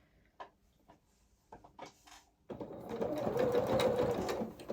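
Sewing machine running a short line of stitches about 1 mm in from the seam edge of small doll-sized coveralls. Quiet handling clicks come first, then a loud, steady motor whir runs continuously for about two seconds.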